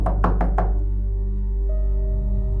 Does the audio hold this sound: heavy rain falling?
no